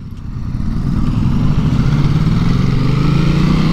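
A Ducati Multistrada V2S motorcycle pulls away, its engine rising into a loud, steady, close drone as it accelerates, with wind rumble and no talk.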